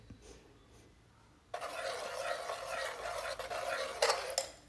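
A spoon stirs ground coconut paste through a thickening yam and plantain curry, a steady scraping swish against the pot that begins abruptly after a quiet start and continues close and moderately loud, with a couple of sharper clinks near the end.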